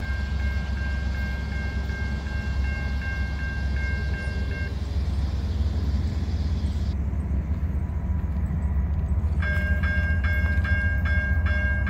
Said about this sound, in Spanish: No, es una C44, ahí se escucha el motor Jevo.